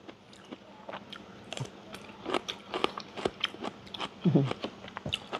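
Close crunchy chewing and biting on rice eaten with bitter gourd, irregular wet bites and crackles through the whole stretch, with a louder crunch burst near the end and no talk.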